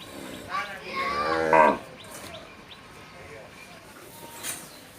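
A cow moos loudly and close by, one long drawn-out call, then fades into quieter background noise.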